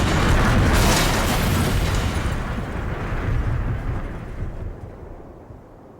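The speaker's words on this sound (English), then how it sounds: "We hit the trees. Big, horrible banging noises." Violent crash of a small plane slamming into trees in the Colorado Rockies, a loud sustained rumbling roar of impacts and banging that slowly fades over several seconds, with no voices.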